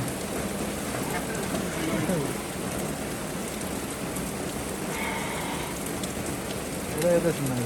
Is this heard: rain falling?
yes